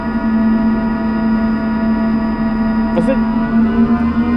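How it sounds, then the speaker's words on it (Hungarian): A steady low electric hum with constant tonal drone from an electric ferry motor in Norway, heard in rainy weather, continuous and fairly loud with no talk over it. "Elektromos a komp."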